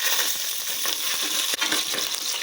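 Green chilies crackle and spit in hot oil with cinnamon, a dense, loud hiss laced with rapid sharp pops, close up and unbroken for a few seconds.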